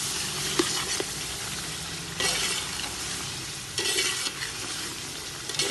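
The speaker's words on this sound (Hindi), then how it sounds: "इसे अच्छी तरह से भून लेंगे।" Chicken stirred and fried in a pot for biryani, a steady close sizzle with repeated scraping stirs every second or two, no talking.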